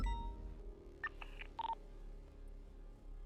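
Several short telephone keypad dialing tones from a phone in GTA 5, faint beeps in quick succession over a low steady background hum, with no voices.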